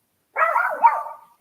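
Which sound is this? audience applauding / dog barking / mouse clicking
dog barking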